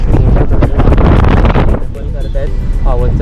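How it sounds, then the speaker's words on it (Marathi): Strong stormy wind at a bridge, heavy buffeting roar against the microphone, loud and close, easing slightly partway through while a person talks over it. "वारा बघा, वादळ आहे, झाडं मारत. मोराचा वारा सुटलाय एकदम."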